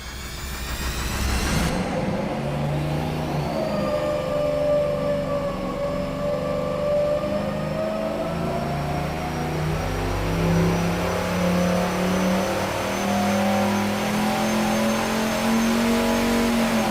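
Boosted V8 performance engine on a dyno, starting with a sharp rev and then holding a loud, steady high-rpm roar with rising pitch, close and continuous with no talk.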